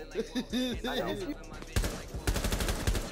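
Rapid gunfire in the Rainbow Six Siege video game, a burst of loud close shots in quick succession following a voice speaking.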